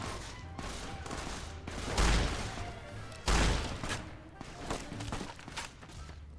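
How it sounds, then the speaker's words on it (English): Gunfire in Fallout: New Vegas comes as bursts of sharp shots and a couple of louder heavy blasts mixed with clatter, at moderate loudness under occasional talk. "I think we're shooting"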